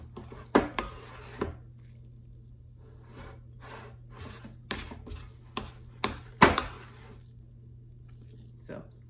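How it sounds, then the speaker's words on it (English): A spoon folds thick chocolate crinkle cookie dough in a bowl, giving scattered soft squishes and sharp clicks against the bowl at an uneven pace over a steady low hum. "I'm just like folding it over because it's really thick"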